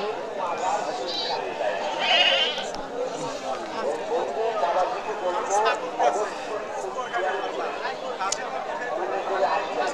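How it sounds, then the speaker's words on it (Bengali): Goats bleat again and again amid a busy crowd of chatter at a goat market, the animal calls rising over steady background voices. "অসংখ্য ছাগল রয়েছে, তারা এখানে কিনে রাখছে"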